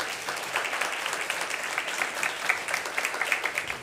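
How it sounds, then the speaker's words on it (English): An audience gives a round of applause for volunteers at a community event, a dense steady patter of many hands clapping at moderate distance, sustained evenly for the whole stretch. "I think we should just give them a round of applause."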